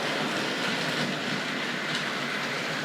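A Tri-ang R.356 Battle of Britain Class model locomotive, "Winston Churchill", runs steadily on its track with a continuous close whirring rumble and faint rhythmic wheel clatter, no voices.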